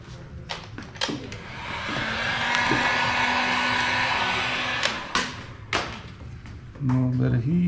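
A heat gun blows steadily as it warms a graphics decal on a Can-Am Renegade ATV, a smooth whooshing hiss running for a few seconds, bracketed by soft thumps and handling noises, with someone talking briefly at the end.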